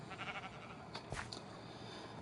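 A sheep on a Minecraft farm, kept alongside a llama, a cow and chickens, gives a short, faint bleat over a quiet hum of game background noise.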